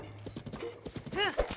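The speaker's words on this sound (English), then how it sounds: "These are wild horses." Wild horses in The Legend of Zelda: Breath of the Wild trot with steady clip-clop hoofbeats and give a short whinnying neigh, with a faint voice briefly audible in the background.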